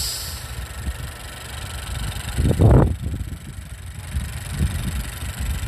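A 2018 Honda Civic Sport Touring four-cylinder turbocharged engine idles quietly, a low steady hum with one brief louder swell midway.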